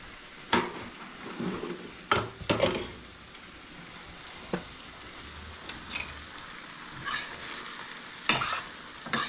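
Beef sautéing in a pan while being stirred, with a soft steady sizzle and repeated sharp scraping stir strokes at irregular intervals, fairly quiet and close.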